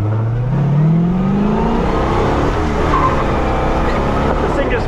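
A 1967 Pontiac Le Mans engine revs up, rising in pitch over the first couple of seconds and then roaring steadily and loudly nearby, with a voice speaking over it.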